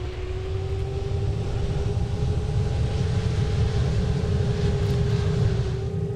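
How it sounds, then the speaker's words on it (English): An airliner in a Roblox flight game begins its takeoff roll, a steady, loud engine roar with a faint rising whine that holds evenly throughout, no talking. "We're slowly starting on our takeoff roll."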